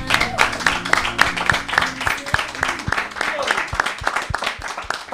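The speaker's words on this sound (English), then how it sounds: "Clap for yourself." A church congregation clapping together, with loud, fairly even rhythmic claps over a crowd murmur and voices throughout.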